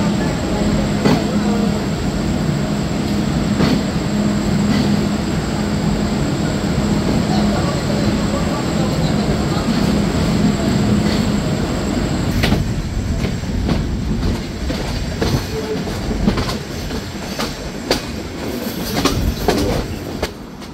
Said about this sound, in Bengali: আন্তনগর পদ্মা এক্সপ্রেস ট্রেনটি তার নির্ধারিত সময় অর্থাৎ বিকাল 4টায় রাজশাহী রেলওয়ে স্টেশন ছেড়ে যাচ্ছে